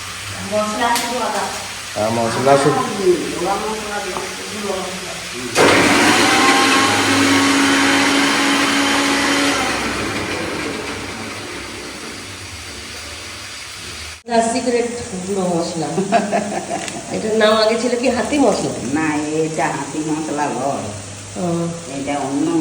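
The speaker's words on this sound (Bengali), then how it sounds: "সবজিগুলো একটু ভাজা ভাজা করে তারপর মনে হয় খিচুড়ি রান্না হবে" Vegetables fry in a pan for khichuri, a broad sizzling hiss lasting several seconds between stretches of talk before and after.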